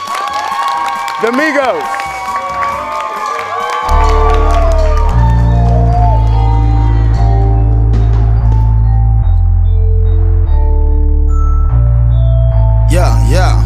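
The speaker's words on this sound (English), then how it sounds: "Please, start clapping your hands now." A live crowd cheers, whoops and claps for about four seconds while a voice calls out over it, before a loud, booming music beat takes over and buries the crowd.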